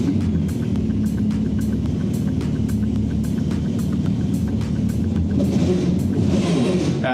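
A rebuilt jet ski engine of around 400 horsepower, used for tow surfing at Nazaré, runs with a loud, steady, continuous rumble that holds throughout with no talking.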